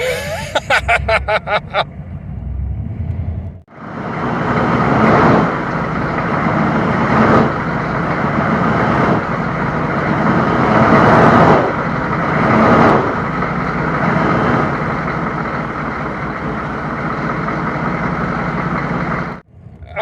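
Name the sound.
1993 Chevrolet K3500 diesel truck spinning its tires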